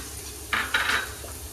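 Egg masala frying in a pan is stirred with a spoon in two quick scraping strokes and a lighter tap afterward, close and fairly soft over a low background hum.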